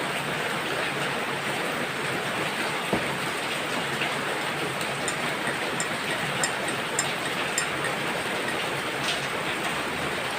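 Steady rain hisses across the whole stretch, with a few faint drip-like ticks and taps standing out over the constant wash.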